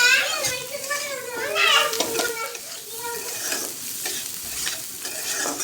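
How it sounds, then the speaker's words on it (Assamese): Sliced onions with a little salt and turmeric fry in a pan, a soft sizzle and scraping stir running throughout while voices, including a child's, talk over the first half. "এয়া মই পিঁয়াজ ভাজি আছোঁ।"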